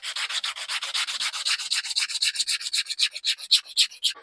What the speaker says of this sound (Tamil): இது ஃபுல்லாகவே தேய்ச்சி அப்படியே ஈக்குவல் ஆக்கணும்.